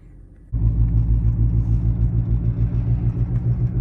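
Mercedes-Benz CL550 with a suspected bad wheel bearing, a steady loud low rumble from the wheels while driving, starting abruptly after a quieter moment and droning on continuously without letup.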